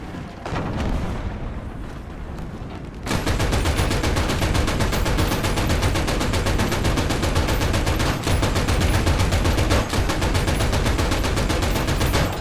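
Sustained, loud machine gun fire in War Thunder with an LVT A(4) and PBY-5 Catalina, continuous dense bursts and rumbling impacts after a quieter opening of scattered shots and battle noise.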